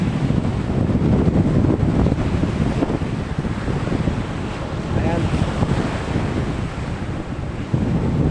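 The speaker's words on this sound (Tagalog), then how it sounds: "mahangin na dito mga idol" Strong wind at a rough sea roars continuously against the microphone, a loud, steady rumbling gust with no pauses.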